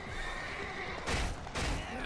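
Two sharp bursts of a horse's neigh from the Samurai Warriors 4-II video game, each about half a second long, over a dense battlefield din of music and effects.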